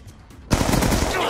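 Gunfire in a video game suddenly erupts into a loud, continuous rapid burst like a machine gun after a brief quiet moment.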